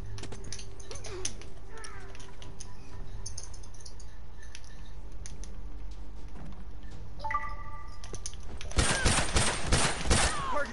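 Rapid rifle gunfire in a multiplayer shooter game, bursts of quick shots growing loud and dense near the end over steady game background noise and clicking.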